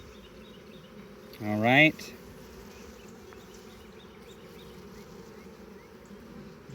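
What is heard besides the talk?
honey bees buzzing in an open nuc hive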